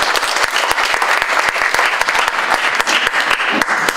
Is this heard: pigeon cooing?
no